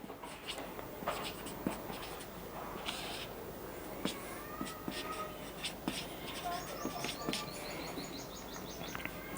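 Pen scratches across paper as the current date is written by hand, a soft steady scratching under occasional birdsong in the background, with a voice talking over it.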